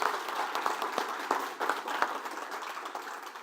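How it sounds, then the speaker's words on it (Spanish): Applause from an audience after a talk, many hands clapping steadily throughout with a few louder claps standing out. "les pido un fuerte aplauso"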